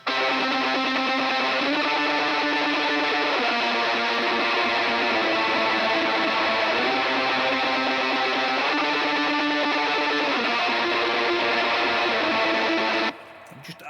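Ugritone metal drum plugin played dry with no reverb, a dense distorted band mix pounding steadily for about thirteen seconds before cutting off abruptly near the end.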